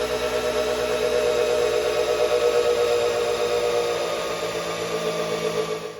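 A power drill spins the engine of a 1978 Camaro drag car to prime the oil, giving a steady, continuous whirring drone with a rough mechanical texture that holds even for about six seconds before easing slightly near the end.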